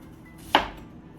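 A single sharp knife chop through a vegetable on a cutting board, dicing big chunks for a seafood boil sauce, close and brief in a quiet kitchen.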